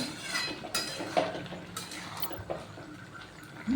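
Spinach and pumpkin curry with fried lentil dumplings is stirred in a pan, giving soft scraping and light clinks of a spoon, faint and irregular, with no talking.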